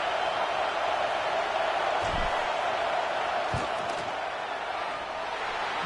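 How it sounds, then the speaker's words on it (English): A steady roar of a stadium crowd fills the air as a football field goal unit lines up for a fourth-down kick in the second quarter, a dense continuous wash with a couple of low thumps and no voices. "Crowd trying to do its part to get inside the kicker's head."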